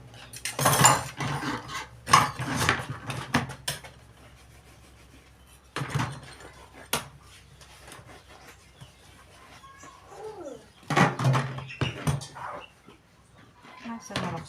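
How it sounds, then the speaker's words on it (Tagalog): Cooking pans (kawali) being scrubbed and washed, with clattering metal bursts and scraping that come and go between quieter gaps, alongside nearby talking and chickens clucking in the background. "May as-isi na naman na po akong mga kawali."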